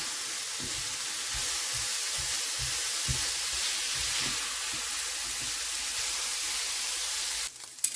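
Pork and sausage stir fry with very little oil sizzles steadily and loudly in a Ninja Neverstick skillet, a constant frying hiss with light scraping stirs underneath, ending in a brief clatter.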